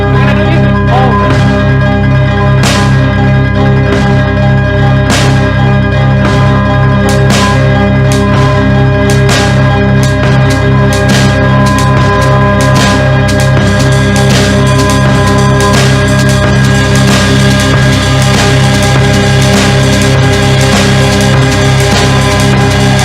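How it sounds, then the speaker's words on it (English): A TRAPPIST-1 planetary resonance sonification plays as layered bell-like tones, loud and continuous, struck in repeating rhythmic patterns over sustained drones. "It's made by astrophysicists and musicians that got together and tried to make sounds from the planets."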